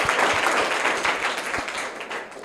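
Loud applause erupts from schoolchildren in a smart classroom after a correct quiz answer: a burst of dense, rapid clapping close by that gradually thins and softens toward the end.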